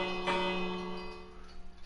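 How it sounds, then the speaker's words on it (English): A bell in the Minecraft video game, heard inside a castle: a single ringing strike with a bright onset and a sustained tonal ring that fades gradually. "This is the bell."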